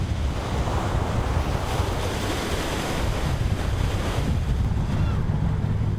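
Rough sea in bad weather off the Yeongdeok coast during snow crab fishing, with steady roaring surf and strong wind buffeting the microphone, loud and continuous with no talk.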